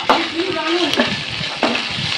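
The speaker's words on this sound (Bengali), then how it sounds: "আদা জিরে বাটা দিয়ে ভালো করে একটু নাড়াচাড়া করে নেব।" A spoon stirs ginger-cumin paste and chopped tomato frying in a pan, a steady sizzle broken by a few sharp scraping strokes against the pan, close and clear.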